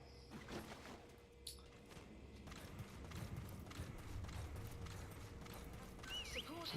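D-Horse's hooves clip-clop in Metal Gear Solid, a steady run of soft, fairly faint thuds, with a brief mechanical clank early on and a faint whinny-like squeal near the end.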